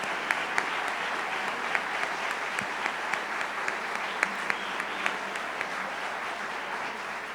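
Audience at an evening event at the Nixon Library gives sustained applause for veterans and uniformed service members, a steady crowd of clapping with occasional sharper individual claps and faint voices underneath.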